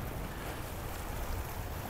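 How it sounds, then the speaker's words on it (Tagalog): Continuous wash of sea waves and wind between Saudi Arabia and Bahrain, a broad steady roar with no voices. "Ayan na, dagat na yan."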